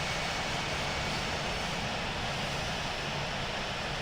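Boeing 787-9 jet engines spool up for takeoff in the Infinite Flight simulator, producing a steady, dense, unbroken roar that stays loud throughout.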